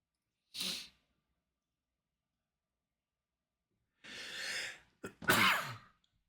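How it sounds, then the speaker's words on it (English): A short sharp breath, a pause, then a loud two-part sneeze with an intake before it, close to the microphone. "That's the first time I sneeze on video"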